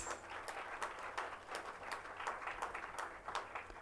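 Steady applause from a crowd at a student literature festival, dense overlapping claps filling the whole stretch at an even, moderate level.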